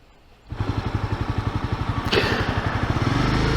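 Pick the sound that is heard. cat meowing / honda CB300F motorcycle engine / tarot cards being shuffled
honda CB300F motorcycle engine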